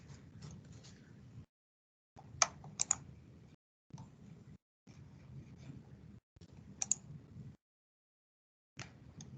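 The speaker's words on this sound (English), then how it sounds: "A few more folks typing." Several people typing on computer keyboards in short bursts of quick clicking keystrokes, separated by brief silent pauses, fairly quiet and close.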